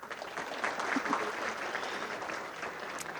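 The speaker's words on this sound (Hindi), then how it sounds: "ताली बजाओ।" Audience applause at a gathering in the Midlands, steady dense clapping from a large crowd lasting several seconds, fairly even and moderately loud with no talk over it.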